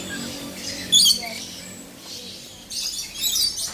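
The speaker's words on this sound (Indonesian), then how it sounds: "yang nampak di depan kita ini adalah nuri Maluku ya" A Moluccan lory in a zoo aviary at Gembira Loka Zoo, Yogyakarta, lets out two shrill, raspy squawking bursts, one brief and one longer, over faint background voices.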